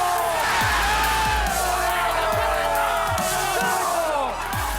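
Borussia Dortmund supporters roar in their packed stadium during a Der Klassiker football match, a huge sustained crowd cheer with bellowing shouts and whoops that stays loud throughout.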